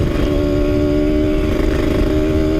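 A Kawasaki Ninja 150 RR two-stroke motorcycle engine runs loud and close, a steady buzzy idle with rapid rattling pulses and no talk.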